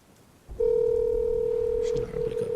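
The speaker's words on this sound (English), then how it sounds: "Can you hear the phone?" Telephone line sound: a steady dial tone cuts in suddenly and holds loud for about a second and a half, then breaks into a few short stuttering tones near the end, with faint background noise.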